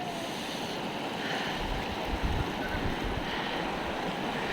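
Water from a natural fountain in the hills of Sikkim rushes in a steady, dense wash with no break, close and fairly loud, with some low rumble from wind buffeting the mic.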